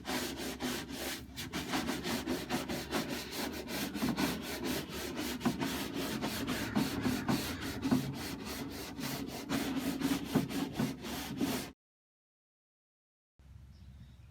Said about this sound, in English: Just scrub it around on there with the brush